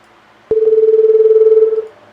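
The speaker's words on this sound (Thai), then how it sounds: "เสียงโทรศัพท์" A telephone sound effect from the CapCut library plays alone: one loud, steady electronic ring tone with a fast warbling pulse, lasting just over a second before it stops cleanly.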